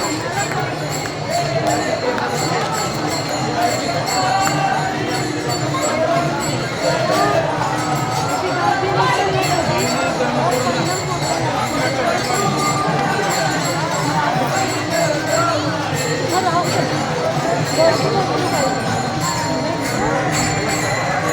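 Dense crowd of pilgrims on the banks of the Indrayani river during the Sant Dnyaneshwar Samadhi festival, a steady outdoor babble of many voices with occasional bells and movement, continuous and loud throughout.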